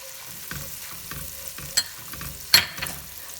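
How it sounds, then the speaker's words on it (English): Garlic sizzles softly in a pot while a utensil stirs it, with rhythmic scraping strokes every half second or so and a couple of sharper clacks, quiet and close. "I'm also going to add my garlic, making sure to keep stirring so the garlic does not burn."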